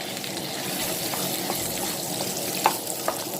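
Shrimp paste (kapi) is stir-fried in a pan, with a steady close sizzle and frying hiss under occasional light clinks and scrapes of a utensil stirring.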